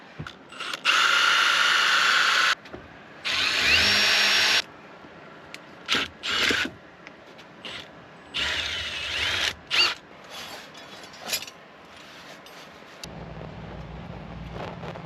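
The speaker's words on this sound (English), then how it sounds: "I'm going to drill a hole into the end of it." A power drill whirs in several short bursts while boring a hole into the end of a tripod pole at an outdoor campsite, starting and stopping repeatedly, with quieter pauses between runs and some handling noise.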